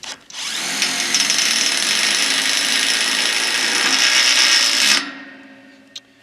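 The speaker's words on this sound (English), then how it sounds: "we will put a Tek screw in one of these clamps here to keep everything from moving up or down" A power drill drives a Tek screw into a metal clamp on a high tunnel baseboard, one loud steady whirring run of about five seconds, then it stops with a brief click after.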